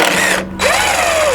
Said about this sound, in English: just got to take out these two bolts